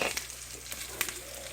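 Spice tempering hits boiling tomato rasam with hing, producing a soft, steady sizzle and bubbling close by, with a few brief crackles and no talking.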